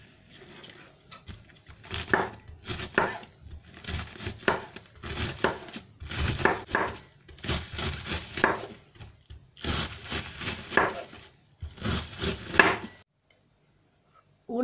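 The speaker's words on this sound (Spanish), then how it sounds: "Seguidamente la cortaré en julianas." A knife slices cabbage into julienne strips on a cutting board in a home kitchen, with bursts of rapid, crisp chopping separated by short pauses, close and fairly quiet, then falling silent at the end.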